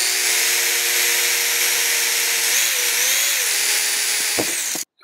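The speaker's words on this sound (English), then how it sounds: "Okay, so I got all 6 of them drilled." A power drill runs steadily and loud for about five seconds, boring holes in a cam from a vintage Tandy Radio Shack computer truck, its pitch wavering slightly under load before it cuts off abruptly near the end.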